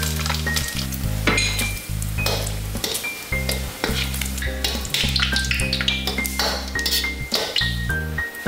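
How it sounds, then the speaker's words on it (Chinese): Pork fat fries in a hot wok to render out oil, with loud continuous crackling sizzle and repeated clinks and scrapes of a metal spatula stirring, close up and without talk. "锅烧热，现在把肥肉撒出油"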